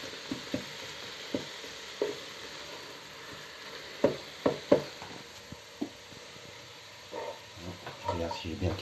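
Onion, shallot and pancetta fry and stir in a pan, a soft steady sizzle broken by intermittent scraping and clinking of a utensil against the pan, close and fairly quiet.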